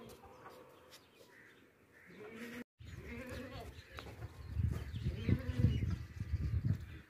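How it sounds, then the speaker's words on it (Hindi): Desi goats of the Makhi Cheeni breed bleat several times at close range, the calls growing louder and more crowded toward the end, with a chicken or other fowl also sounding among them and no talk over them. "बहुत ही प्यारी और खूबसूरत बकरी है"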